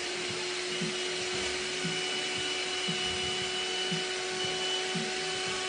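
An electric mixer whipping ice cream ingredients in a bowl, a steady motor whir with faint rhythmic thumps beneath, running continuously without speech.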